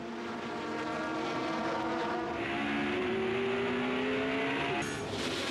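Alfa Romeo and BMW touring cars race past in a steady, loud engine roar that rises in pitch as the cars accelerate, with no voices over it.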